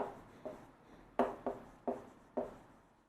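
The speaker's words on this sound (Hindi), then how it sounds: "पहले हम यहाँ पे लिखेंगे" A pen writes on paper in short, distinct scratchy strokes, about six of them spaced out at an irregular rhythm, close and fairly quiet against a hushed room.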